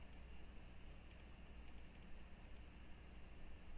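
Soft keyboard clicks and typing taps come in scattered bursts over a steady low background hum during a Mount and Blade Warband gaming session, quiet and fairly close.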